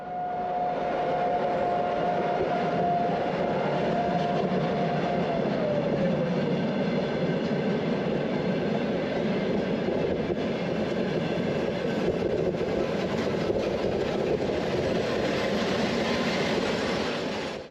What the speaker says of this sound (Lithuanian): Atvyksta traukinys iš Vilniaus į Klaipėdą.